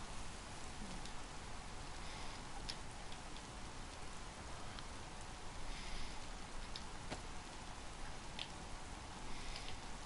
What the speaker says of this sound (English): This isn't the cleverest thing to do in the world, running along in the rain.